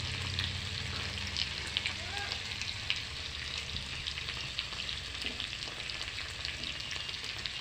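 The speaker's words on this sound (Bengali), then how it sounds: "দু মিনিট ভালো করে ভেজে নেব।" Prawns frying in a pan with turmeric and a little chili powder, a steady close sizzle with scattered crackles and spatters running the whole time, no voices.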